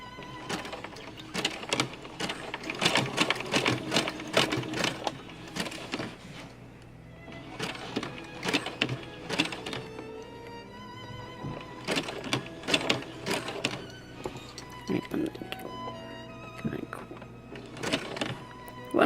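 A sewing machine stitching a clothes line bowl runs in repeated bursts of rapid mechanical clatter, with short pauses between runs. Each run is close and fairly loud, and no one talks.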